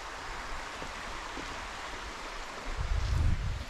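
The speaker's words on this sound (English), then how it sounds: "Right on a creek." A creek flows steadily beside a roadside campsite, giving a continuous broad rushing wash with a brief low rumble swelling near the end.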